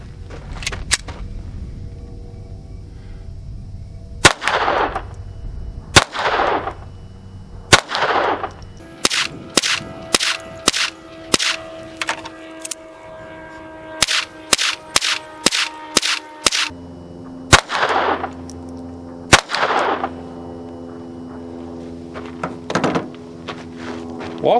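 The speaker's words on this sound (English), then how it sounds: "I'm going to shoot the one on the left with the Walther, then I'll shoot the other one with the Taurus" Pistol shots ring out from a Walther PPQ and a Taurus, starting as a few spaced reports, then a rapid string of sharp cracks, then several more single shots, all loud and close outdoors.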